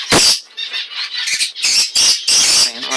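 Harsh, loud squawks from birds in an aviary, several overlapping calls bursting out one after another over about three seconds, close and with no talking.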